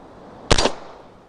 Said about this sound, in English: We're going to test fire this and show you how it meters.